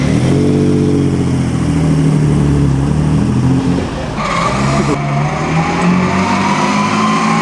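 A Lancia car drives close past on a sunny day at a concours of elegance, its engine note rising in pitch under throttle, then a brief shift and a fresh climbing rev as it pulls away.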